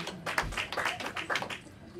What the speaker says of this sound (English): Three claps